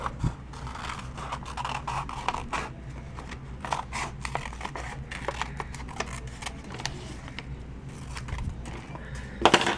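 Scissors snip through material for homemade shoe shields in a run of close, sharp cuts and crisp rustles, irregular in rhythm, with no talk over them.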